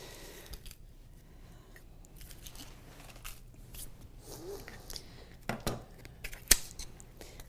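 Scissors trim acrylic paper pieces with soft, close snips and crisp cutting clicks, sparse at first and then a few sharper cuts near the end.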